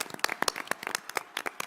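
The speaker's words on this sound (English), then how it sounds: "Let's give them a round of applause." Scattered, fairly faint clapping at a school district board meeting: a brief round of sharp, uneven hand claps from a modest group in a meeting room.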